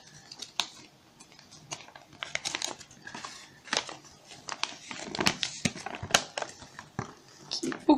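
A Disney Nanoblocks package is opened up close, with crinkling plastic, tearing and rustling in a busy series of sharp bursts, and no one talking.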